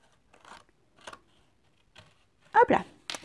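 Scissors trimming frayed edges off a paper card, a few short separate snips spaced apart and then a louder cluster of quick cuts near the end, close and dry against quiet.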